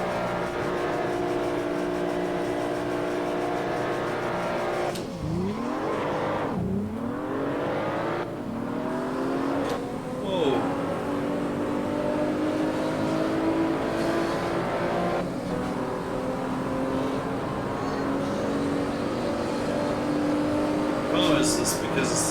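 A BMW car engine in the Wrench video game hums steadily throughout, with gear-change sweeps and revving rising and falling, while someone talks over it.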